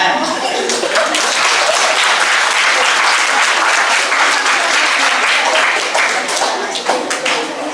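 A room of trainees at a funeral-preparation workshop gives loud, close applause, dense clapping that runs continuously for several seconds and fades slightly at the very end.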